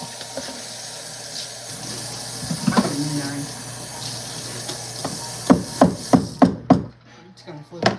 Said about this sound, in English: I'm just gonna give this a quick rinse